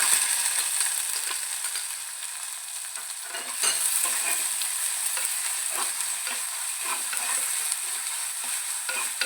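Crushed shallots, garlic, ginger and green chilli sautéing in a pan after mustard seeds have popped, for a spicy fish curry: a steady sizzle of frying with scraping stir strokes throughout, close and fairly loud, no voices.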